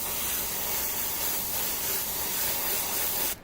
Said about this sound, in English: I'm going to use a little bit of air just from the airbrush and put some more layers on